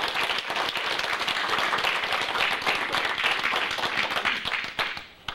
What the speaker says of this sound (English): I think we ought to give her a great big round of applause.